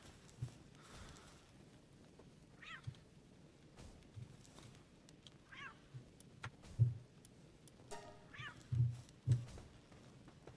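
A small cat-like creature in the video game Palworld gives a few short, faint meows scattered over a quiet game ambience, with occasional soft thumps and footsteps.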